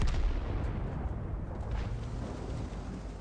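Artillery shell fire in World of Tanks: a deep, rumbling blast with a sustained low roar that fades slowly. It sounds distant and fairly faint, with no voices over it.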